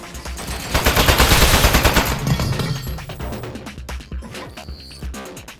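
Rapid automatic turret gunfire in the Aperture Desk Job video game, a loud dense burst of shots that tails off into scattered impacts and clattering effects.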